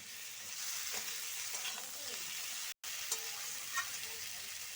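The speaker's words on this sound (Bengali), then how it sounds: "ফুলকপি দিয়ে আমি আরো 2 থেকে 1 মিনিট কষিয়ে নেব ভালো করে।" Fried cauliflower and potatoes sautéing with spices in a hot pan, with a steady sizzle and occasional scraping stirs that stop for a split second midway before resuming.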